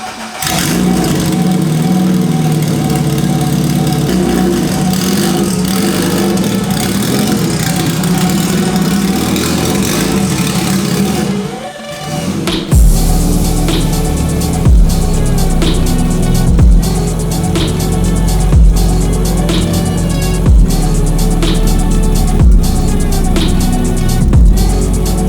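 A Honda Civic EG engine with an extremely loud custom exhaust idles with a heavy drone, then revs repeatedly in sharp, close, booming pulls.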